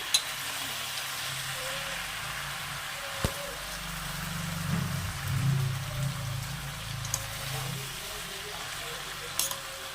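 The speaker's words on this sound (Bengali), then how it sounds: "রান্নাটা এবার একটু নেড়ে নিয়ে" Vegetarian Malabar spinach with potato, pumpkin and green chilies is stirred in a pan, giving a steady soft sizzle with scattered clicks and a brief stronger rustle of stirring midway, heard up close.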